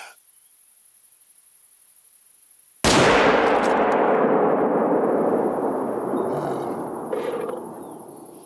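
A single sharp rifle shot fired at a warthog in The Hunter: Call of the Wild, a loud sudden crack after near-silence that rolls into a long fading echo across open terrain.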